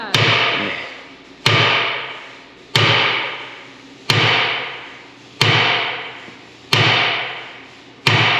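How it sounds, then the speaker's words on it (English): Seven loud, evenly spaced hammer blows land about every second and a half, each a sharp metallic strike that rings out and fades before the next. "Right when I know it's only going to take one hit, I'm going to take the hammer from him and do it."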